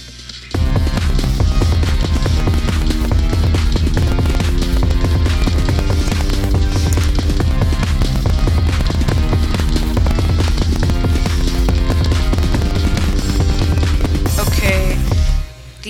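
A loud FL Studio 9 song plays for about fifteen seconds: a steady, driving drum pattern with thumping kicks and snares under layered synth tones, cymbal crashes over the top, then a sudden stop near the end.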